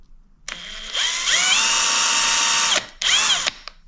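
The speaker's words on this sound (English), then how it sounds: "I'm gonna drill a pilot hole" A power drill whines loudly in one long burst while drilling a pilot hole near a campervan rooflight, its pitch sweeping up as it spins, then stops and runs again briefly.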